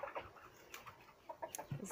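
Black copper Marans hens and a Marans rooster clucking together in a shared coop, soft scattered clucks and short calls in quick irregular bursts, faint and fairly close.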